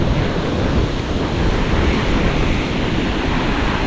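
Loud, continuous roar of surf breaking on a beach shore, heavily mixed with wind buffeting the microphone, steady and unbroken with no voices.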